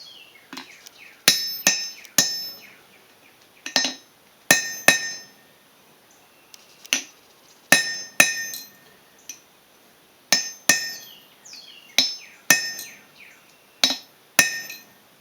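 A ball punch struck with a hammer on a hand-forged steel bottle opener: sharp, ringing metallic blows in irregular pairs and clusters, loud and close, with quiet gaps between them and no talking.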